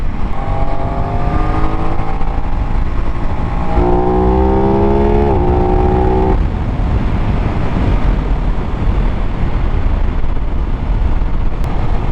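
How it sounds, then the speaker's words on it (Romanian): Aprilia RS660 Extrema motorcycle fitted with an SC Project exhaust, heard while riding: a steady, loud engine drone with rising harmonic sweeps as it pulls through gears, then fading into rushing wind noise. "e foarte plăcut la ureche, în sine sunetul de la SC Project"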